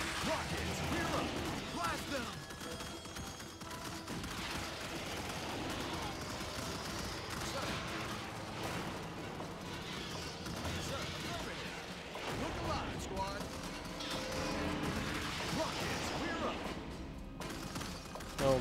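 Gunfire and rocket blasts in the Starship Troopers: Terran Defense strategy game, dense bursts of shots and explosions overlapping continuously, with game voices and a player talking over the battle.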